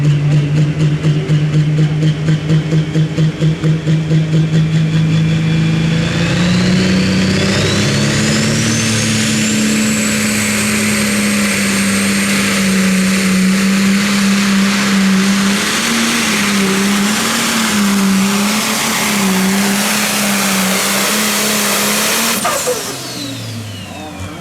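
A John Deere pro stock pulling tractor at a tractor pull in Wapakoneta, Ohio, roaring loudly with a rising whine and sustained wavering drone before cutting off near the end, with an announcer talking over it.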